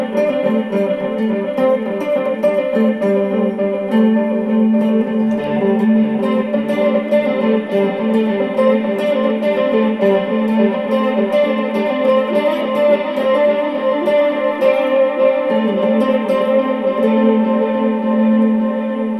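Electric guitar with shimmering chorus, echoing delay and reverb plays a steady, washy pattern of notes, loud and continuous with no voices.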